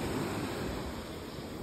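Ocean waves wash onto the shore in a steady, broad rushing roar, fairly close and continuous, with some wind noise across the microphone and no talking.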